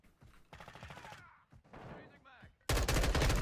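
Bursts of rapid gunfire from the video game Modern Warfare 2 come in short clusters, with a sharp loud volley at the end, mixed with other game noises.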